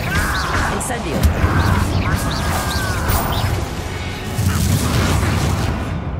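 Incendio fire spells are cast in Hogwarts Legacy during a fight with goblin loyalists: loud, fiery bursts and crashing impacts with whooshes, mixed with combat shouts and a voice speaking.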